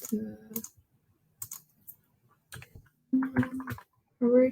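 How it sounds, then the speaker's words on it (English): Computer keyboard typing comes in light, scattered clicks between stretches of a person talking at a nonprofit data-tools meeting, fairly close but fainter than the voice. "Sorry, I'm a slow typer."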